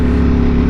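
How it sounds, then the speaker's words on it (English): A 2020 Ducati Panigale V4 motorcycle exhaust produces a loud, close, steady engine drone, a deep throbbing tone held briefly without variation. "of sounds coming from this exhaust"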